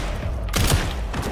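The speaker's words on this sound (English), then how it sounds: "It's like everyone in this game is super slow shooting." Gunfire in a video game comes as a brief burst of dense, thumping shots that stays loud and close, with no talking over it.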